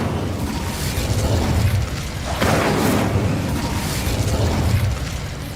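Whooshing, roaring bursts of an Incendio fire spell cast in Hogwarts Legacy, two broad flaring blasts in succession, loud and close with no talk.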